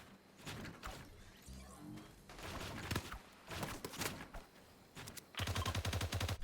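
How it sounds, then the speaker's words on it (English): Grenades going off in a Fortnite match, a series of sharp blasts and crashing bursts spread across several seconds, ending in a rapid loud volley. "I think they just spent some nades."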